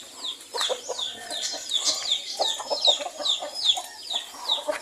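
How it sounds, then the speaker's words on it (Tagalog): A turkey on a small farm gobbles and clucks in a rapid series of repeated calls, close and fairly loud, with no talking. "ito na naman yung aking kaaway na pabo"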